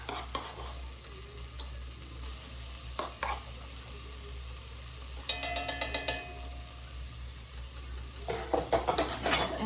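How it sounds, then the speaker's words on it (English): Garlic, ginger and sweated onions sizzle steadily in a pan while a utensil stirs them, with bursts of quick rhythmic scraping and clinking against the pan, close and alone without talk. "this is gonna get stirred around for like 30 seconds"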